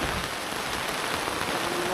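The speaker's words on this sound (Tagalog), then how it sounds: "Bigla namang bumuhos ang malakas na ulan." Heavy rain pouring down during a ride in Sitio Tala, Tarlac, a dense, steady hiss of drops striking surfaces, loud and close and unbroken throughout, with no voices.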